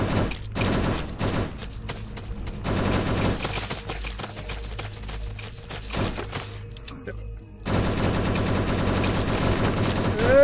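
Gunfire in a post-apocalyptic zombie survival video game, a rapid stream of shots in two long bursts separated by a brief lull, loud and close.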